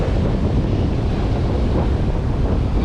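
A wave breaking and washing up a beach in Australia, a steady loud roar of surf blended with wind rumble on the microphone, close and unbroken.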